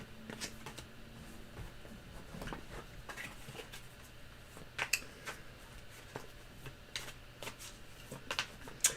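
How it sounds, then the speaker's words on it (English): Playing cards dropping and slapping onto a surface, a scattered series of light flicks and taps, close and quiet with soft room noise between. "Oh, dropping cards."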